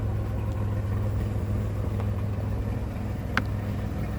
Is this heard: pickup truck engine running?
yes